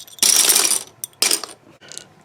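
A handful of small 10mm plastic six-sided dice rattle and clatter into a box in two sharp bursts, followed by a faint third clatter, close by with no voices.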